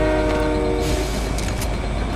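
A train rolls along in the Fortnite video game, with a loud, steady rumble and sustained horn-like tones running through the whole stretch.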